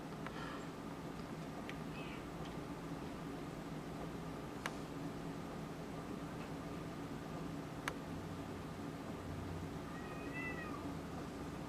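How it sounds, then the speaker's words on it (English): Cats in a backyard meow, a couple of brief calls early on and another faint mewing cry near the end, set against quiet outdoor ambience with occasional soft ticks. "I don't know why I get these strange cats in my yard."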